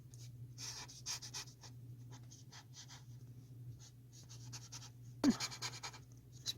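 A chisel-tip pen scratches across paper while someone sketches, giving a steady run of short, close strokes over a low hum, with one sharper, harder stroke near the end.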